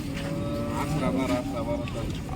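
Cows at a cattle market in Modnimb, one lowing in a drawn-out, wavering moo close by, amid a background murmur of the busy market.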